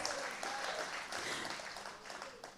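A crowd applauds at an International Women's Day celebration, a steady wash of clapping held throughout, moderately faint with a little voice mixed in.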